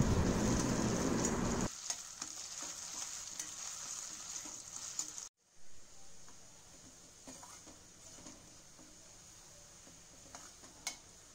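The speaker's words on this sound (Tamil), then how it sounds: "உருளைக்கிழங்கு சின்ன சின்னதாக வெட்டி வச்ச உருளைக்கிழங்கு இதில் ஃப்ரை பண்ணி எடுத்துடலாம்." Small diced potatoes fry in hot oil in a pan for a Batata Poha dish, giving a steady close sizzle and crackle that is loud at first, then drops to a softer continuous fizz with occasional stir clicks.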